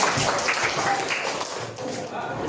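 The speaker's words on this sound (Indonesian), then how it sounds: "tepuk tangan semuanya" Students in a classroom clap together in a brief burst of applause, a dense patter under and around a speaking voice.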